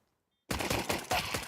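Rapid gunfire from the video game Counter-Strike starts abruptly after a short silence, a loud close burst of repeated shots with several sharp cracks over a sustained roar.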